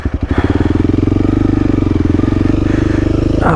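A Honda CRF300L dual-sport motorcycle on off-road trails chugs close by, its low, pulsing single-cylinder engine note revving and thumping steadily, with faint talk underneath.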